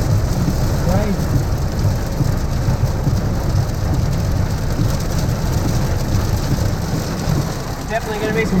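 Heavy rain pounds steadily during a severe thunderstorm with pea-sized hail between Dalby and Toowoomba, a dense continuous roar with low thunder rumbling underneath throughout.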